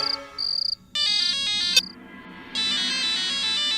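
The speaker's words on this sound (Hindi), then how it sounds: "जय का फोन है" Phone ringtone trilling in bright, repeated electronic chirps, close and loud, in several short bursts and then a sustained ring, with no talk over it.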